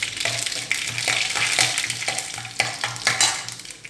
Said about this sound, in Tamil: நல்லா கடுகு பொரியுது